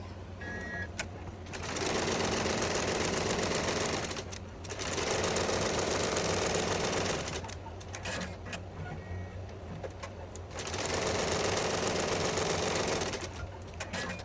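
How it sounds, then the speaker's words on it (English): Embroidery machine stitching a placement line on fabric held in a hoop, loud rapid mechanical needle chatter in three sustained bursts separated by brief pauses, close and alone. "go put the hoop on the machine and stitch step number 1, which is the placement for our fabric"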